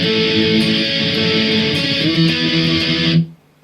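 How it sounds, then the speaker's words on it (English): A distorted electric guitar plays the intro of the song in a dense, buzzing run of picked notes, loud and close, before cutting off abruptly. "the next part of the song is like continuing the intro, but this time it's going to be distorted"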